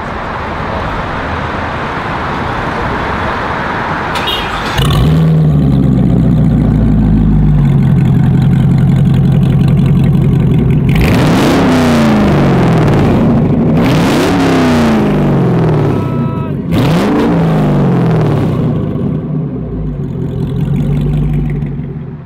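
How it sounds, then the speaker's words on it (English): A Devel Sixteen supercar's deep, loud engine idles with a low rumble, then roars through several sharp revs that rise and fall, close by. "Let's turn her on and first of all see how the Devel 16 sounds."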